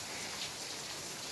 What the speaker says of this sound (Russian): Тут такой ливень идет